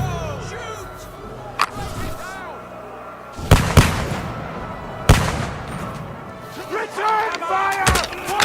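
Battle gunfire in the video game Kingdom Come Deliverance II, with loud sharp shots and bursts scattered across the scene, some close and heavy, over shouting and game noise.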